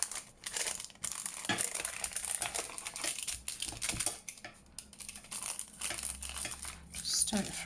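Paper folded and crumpled by hand for junk journal ephemera, soft continuous crinkling and creasing up close, with faint tapping and rustling throughout.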